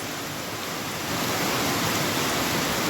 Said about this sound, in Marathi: आता एवढा जोरात पाऊस चालला आहे गार वातावरण झालं आहे